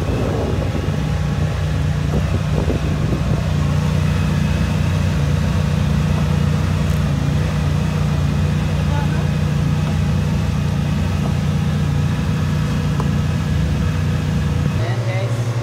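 A newly overhauled Yamaha jet boat engine runs at low, held-back RPM with a steady loud drone and wind noise, while someone talks over it.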